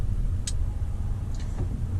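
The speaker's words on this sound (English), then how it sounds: "we have a car coming." A car approaching on the road makes a steady low engine rumble close by, with a couple of faint high ticks over it.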